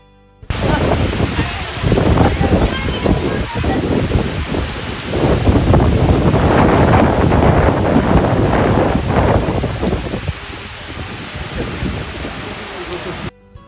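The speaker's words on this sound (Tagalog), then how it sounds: "kung unsa ka kusog ang uwan." Heavy rain pours down in Indonesia with gusty wind buffeting the microphone, a loud, dense, steady roar that eases somewhat near the end.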